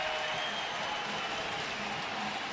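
A baseball crowd at a Cleveland Indians home game cheers and applauds after back-to-back hits, a steady broadband roar of distant voices and clapping that holds level throughout.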